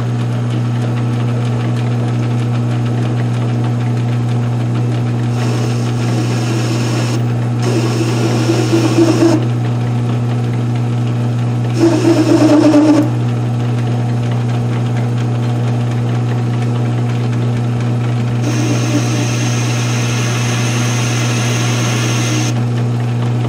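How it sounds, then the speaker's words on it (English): A metal lathe cuts a small lead-in chamfer on a workpiece for an ER collet chuck. A steady machine hum runs throughout, with a few brief louder bursts of cutting noise and no talking. "before we get the boring bar set up, I just want to give this a little chamfer."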